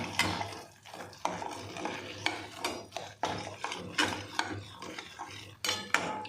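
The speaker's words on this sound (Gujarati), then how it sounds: "મીડિયમ મીડિયમ ફ્લેમ ઉપર આ રીતે શેકવાનું" A spoon scrapes and stirs repeatedly against a pan in an uneven rhythm as sukhdi, a jaggery and ghee sweet, roasts over medium flame, with faint sizzling underneath and no talking.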